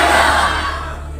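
Audience applause at the 5th Haryana International Film Festival at the Multi Art Centre in Kurukshetra: a dense, continuous wash of clapping from a crowd, loud and sustained, tapering slightly toward the end.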